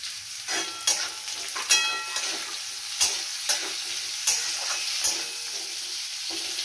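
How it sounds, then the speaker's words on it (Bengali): Two medium-sized onions fry in a pan with a soft, even sizzle, broken by sharp spatula clicks and scrapes every second or so and no talking. "এবার পেঁয়াজটা একটু ভাজা হোক"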